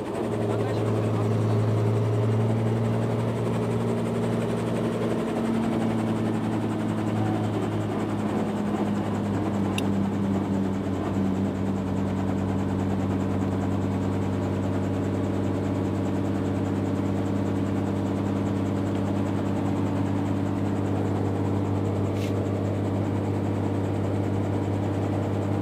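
A news helicopter settles at a heliport, its engine and rotor droning in a steady, loud, continuous hum that fills the whole stretch without letup.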